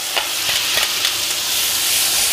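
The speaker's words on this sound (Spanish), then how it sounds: "Vamos a saltear un poco la cebolla." Onion sautéing on a hot griddle alongside pancetta, a steady close broadband sizzle with a few sharp crackles and stirring scrapes early on, continuous throughout without talk.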